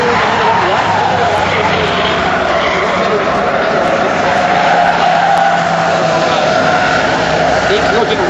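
Race cars on a track, including the number 66, drone past in lapped traffic during a 2003 season race, a loud continuous engine roar with tire noise and a commentator talking over it throughout.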